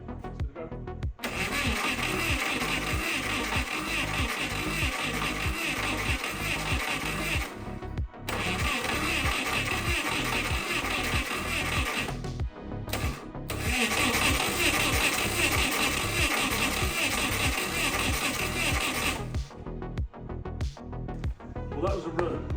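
The 300-horsepower race engine of an abandoned 1980s supercar cranks and fires in long, loud, rhythmic chugging runs with brief pauses between attempts. People talk over the engine.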